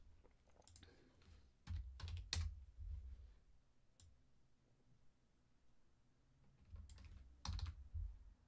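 Numbers typed on a computer keyboard in short bursts of quick, close clicks separated by quiet pauses, with the key presses crisp and fairly soft.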